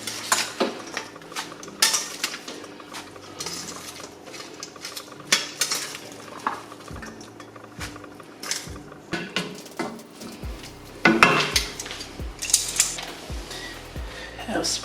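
Vegetables, including sprouts, go into a pan for a prawn and chicken wing soup, with metal utensil scrapes, clinks and stirring taps at irregular intervals under faint sizzling, moderately close.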